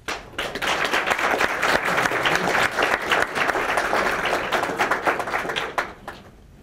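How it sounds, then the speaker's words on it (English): Applause for students at a city commission meeting, a sustained round of clapping from the chamber that swells quickly, holds steady and fades out near the end, with some claps sharp and close. "Give these young people a round of applause."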